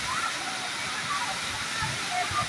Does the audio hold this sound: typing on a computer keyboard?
no